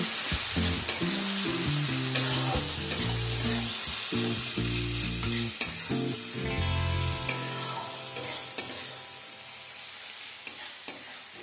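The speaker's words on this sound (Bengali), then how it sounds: "পেঁয়াজটাকে ভেজে নিতে হবে।" Sliced onion fries in oil with Kashmiri red chili powder for chicken dak bungalow curry, a steady close sizzle broken by frequent scraping stirs of the spatula against the pan.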